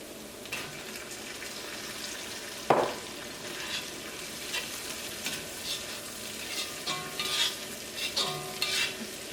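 Fried chicken pieces stirred into hot chili paste with coconut in a pan for Chinese chicken fried rice: close, steady sizzling and frying with repeated spatula scrapes and clinks, no voices.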